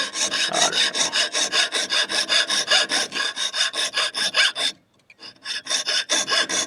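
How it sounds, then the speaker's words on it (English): A jeweler's saw cuts through a 1492 Spanish silver coin in steady, rapid rasping strokes, close and loud, with a brief pause near the end before the sawing resumes. "That's the trick with the jeweler saw. Let the saw do the work."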